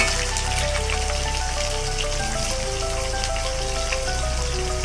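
Onions dropped into hot oil with a little sugar and bay leaf in a kadai for chicken curry, giving a steady, dense crackling hiss like light rain that runs unbroken and close throughout, with no talking.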